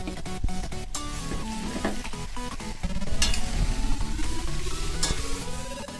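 Marinated mutton hits hot fried onions in a pan, setting off a loud, steady sizzle with clinks and scrapes of a spoon stirring the pot, intensifying partway through.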